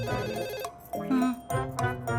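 A telephone rings with a tonal, repeating ringtone over a film-scene background, with several pulses close together and indoor noise and music around them.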